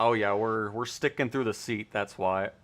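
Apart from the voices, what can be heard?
No everyday noises stand out.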